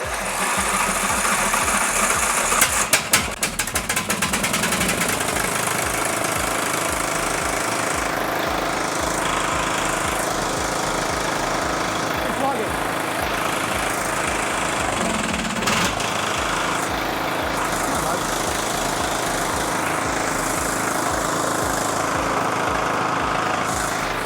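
A neglected old riding lawn mower engine turns over, catches and then runs steadily. The loud, close, rough rattling idle continues throughout with a chugging mechanical knock and no talking.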